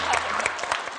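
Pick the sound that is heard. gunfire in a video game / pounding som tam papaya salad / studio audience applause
studio audience applause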